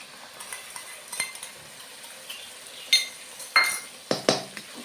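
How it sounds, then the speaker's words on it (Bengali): Whisked yogurt is stirred into fish frying in a pan, soft sizzling under repeated metallic spoon scrapes and clinks against the pan, close and growing louder toward the end. "ভালো করে নেড়ে নেবো, না ফুটে যাবে দইটা"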